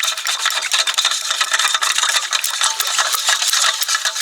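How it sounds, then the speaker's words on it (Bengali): A spoon or whisk stirs semolina sponge cake batter with milk in a bowl, making a steady, close, gritty scraping and swishing in quick repeated strokes that carry on without pause. "সুজিটা দেওয়ার পরেও দুধের সাথে ভালো করে আরেকটু মিশিয়ে নেব"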